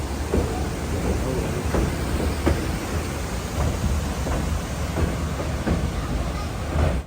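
A passenger train climbing the Shiradi Ghat line in Karnataka rumbles steadily, with rhythmic wheel clacks recurring about every second over a constant low roar heard from on board; no one speaks.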